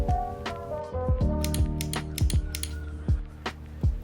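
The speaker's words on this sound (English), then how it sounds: "the wheel does have really nice paddle shifters. They're metal and they sound pretty cool." Metal paddle shifters on a Logitech G920 racing wheel give sharp metallic clicks at irregular intervals, several crisp snaps close up with faint ringing tails, and no voices.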